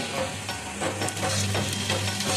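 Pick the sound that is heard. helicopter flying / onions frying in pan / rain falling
onions frying in pan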